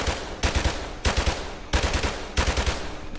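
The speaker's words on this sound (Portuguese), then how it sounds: "Minha shotgun." Bursts of shotgun fire from Call of Duty: Modern Warfare Remastered, four heavy blasts spaced roughly half a second apart, each followed by a short rattling tail, loud and close.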